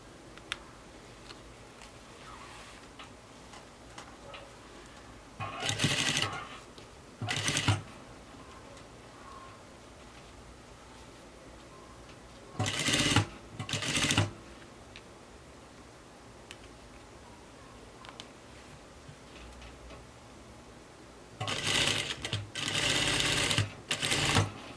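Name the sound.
sewing machine stitching a skirt facing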